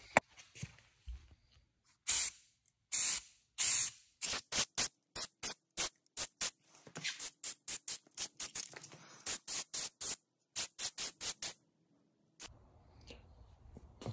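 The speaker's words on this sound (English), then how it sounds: "I'm gonna start spraying here." Repeated short bursts of spray from a can while spray painting personal watercraft trailer parts, some long hisses and many quick pumps in an irregular rhythm, close by with no talking.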